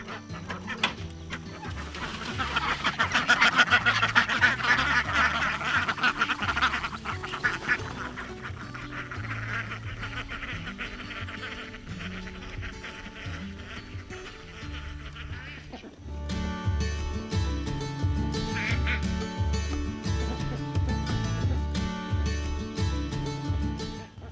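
Ducks quack and chickens cluck together at feeding time, a busy cluster of nearby calls over a steady barnyard bed, livelier at first and continuing throughout.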